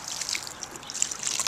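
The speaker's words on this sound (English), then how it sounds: "I'm going to put a little bit more water into it" Water poured onto organic, eco-friendly seed-starting soil in a small planting cube: a soft, continuous trickle with faint splashy detail, close and steady, with no speech.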